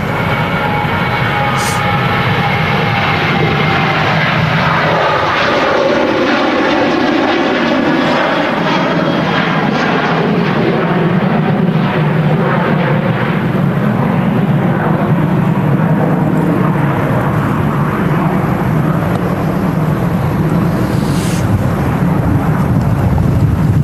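A TUI airliner departs Manchester Airport, its engine roar loud and steady throughout, with a sweeping tonal whine shifting as the aircraft climbs away.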